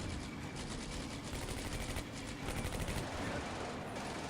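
Gunfire in a Combat Mission World War II battle as a bazooka team fires at a Panzer IV, a dense rattle of rapid shots with bursts that rise and fall throughout, fairly constant and distant-sounding with no voices.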